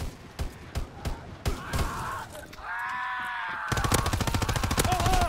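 Gunfire in Call of Duty WW2: several sharp, separate shots ring out, then a sustained rapid burst of automatic fire closes the sequence, loud and close.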